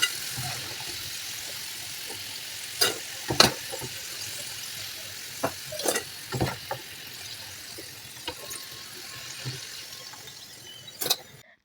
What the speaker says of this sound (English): I went ahead to fry my second batch